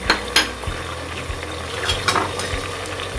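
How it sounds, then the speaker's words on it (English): Ginger garlic paste hits hot oil in a pan of tomatoes and sizzles steadily, with a spoon stirring and clinking against the pan close by; no one speaks. "and now goes the ginger garlic paste."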